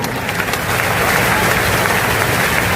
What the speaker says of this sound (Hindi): जोरदार ताली बजा करके